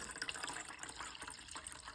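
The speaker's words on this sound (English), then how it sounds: "we're gonna pour in a cup of cold water" A cup of cold water being poured into dissolved Jello mix, a soft, steady splashing trickle that stays fairly quiet and continuous throughout.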